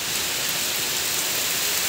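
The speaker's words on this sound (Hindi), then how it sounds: "तो घर पे पहुँचते ही काफ़ी तेज़ बारिश हो गया, देखो" Heavy monsoon rain pours down on a village home in Uttarakhand, a dense, loud, unbroken hiss with no voices.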